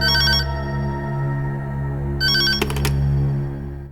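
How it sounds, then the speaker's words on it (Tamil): A telephone rings in a Tamil TV serial scene, with two short, bright electronic ringing bursts over a steady background hum. "பாருங்க மறுபடியும் ஃபோன் அடிக்குது"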